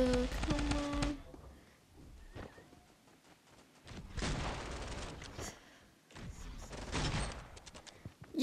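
Rapid bursts of gunfire in Fortnite Mobile Battle Royale, sharp sustained volleys separated by quieter gaps, loud and close, with brief lower sounds between the bursts.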